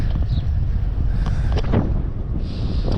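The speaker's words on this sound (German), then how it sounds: "Aber nun dreht auch auf frontal der Wind." Steady headwind roaring across a cyclist's microphone during a long-distance brevet ride in Denmark, a continuous loud low rumble with gusty swells and no voices.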